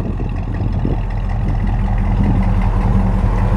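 A 1969 Lincoln Continental Mark III runs with a loud, steady low engine rumble close by, holding an even idle throughout.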